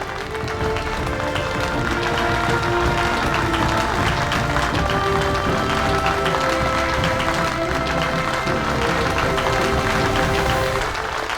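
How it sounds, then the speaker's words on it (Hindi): Audience applause at an award function, steady sustained clapping from a crowd filling the space alongside background music, with no let-up across the whole stretch. "a huge round of applause for the one and only Sai Joshi"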